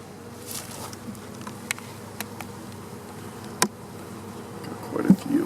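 Honey bees in a captured hive with no queen hum in a steady, close buzz, with a few sharp clicks and bumps breaking the drone near the end.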